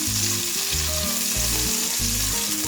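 Steady, loud sizzling of lamb meat and fat frying in a deep pot, a continuous crackling hiss with low rhythmic tones underneath, no voices.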